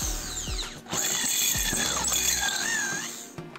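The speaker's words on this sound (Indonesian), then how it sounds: "bagian belakangnya kita perbesar menggunakan mata bor step drill ataupun mata bor pagoda" A high whining step drill bit grinds through metal in a steady, close run, enlarging a hole, with short mechanical clicks and clunks at the start and at the end.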